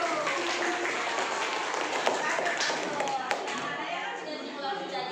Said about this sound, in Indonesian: Terima kasih, tepuk tangan untuk kelompok 1.